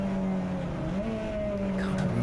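Turbocharged VW Scirocco touring car racing at Silverstone Grand Prix circuit, a loud, close, sustained engine drone whose pitch dips and climbs as it shifts and accelerates, with no speech over it.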